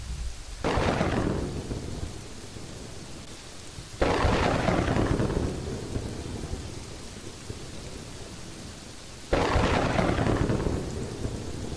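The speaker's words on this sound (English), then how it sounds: "I really hate this weather effect. It's just too frickin' loud." Thunderstorm and rain weather effect from the video game Kingdoms and Castles: three loud, close thunder cracks roll out over steady, hissing rain, each clap fading slowly before the next.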